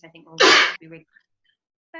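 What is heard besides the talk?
sneeze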